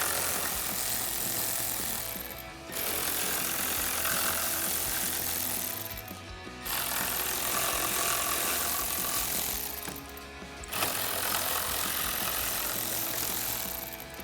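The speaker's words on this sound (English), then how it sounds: "So I'll take a 10 millimeter socket to remove those." A socket ratchet works the upper grille bolts on a 2014-2015 GMC Sierra 1500 Denali, giving steady close mechanical clicking in three long runs separated by brief pauses.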